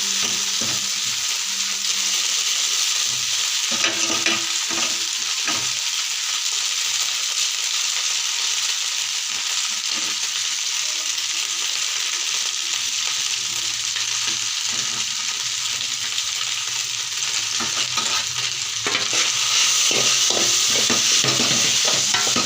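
Semiya fries and gets stirred in a pan for South Indian khichdi, giving a steady close sizzle with scraping stirs throughout and no talk.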